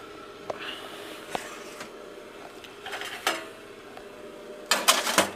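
A metal pan knocks and scrapes against the inside of a small RV oven, with a few faint clatters early on and a louder burst of metallic rattling near the end.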